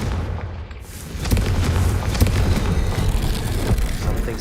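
A Confringo fire spell exploding in the video game Hogwarts Legacy, a deep booming blast that rolls on with a low rumble and crackle for several seconds.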